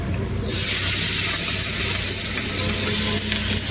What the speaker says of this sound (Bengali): এই যে আমি পাঙ্গাস মাছটা ভাজি এই যে কড়াইতে কিন্তু আমি মাছগুলো দিয়ে দিছি